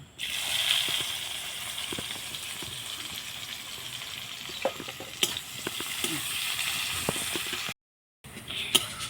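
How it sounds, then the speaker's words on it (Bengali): Onions sizzle in hot oil with a bay leaf, a steady close hiss and crackle with occasional stirring clicks, cut off briefly near the end before resuming. "পেঁয়াজ হালকা করে ভেজে নিয়েছি"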